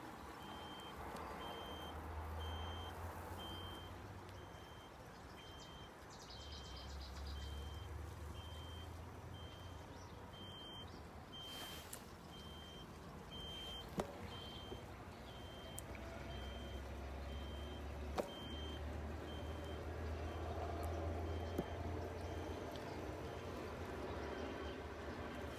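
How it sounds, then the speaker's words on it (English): Small electronic beeper on an electrical pump installation, a faint steady high tone under a low rumbling outdoor background, with a few sharp clicks and no voices. "That little beeper there is from this instrument down here, this pump or whatever it is, electrical installation."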